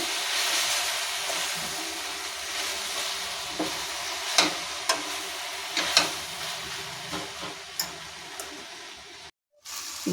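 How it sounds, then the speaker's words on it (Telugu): Washed sorrel (gongura) leaves cook down in a pan with a continuous moist sizzle and hiss, broken by occasional stirring clicks. The sound cuts out briefly near the end. "గోంగూర కొంచెం మగ్గుతుందండి ఇలా మగ్గింది"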